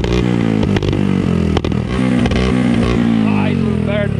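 Engine of a 900HP Nissan S15 Silvia drift car that smokes oil and shoots flames, roaring loud and close with shifting revs, while a voice talks over it.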